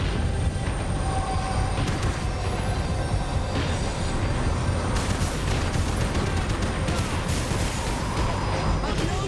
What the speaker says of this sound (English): Of course there'd be a tram full of goons trying to derail me.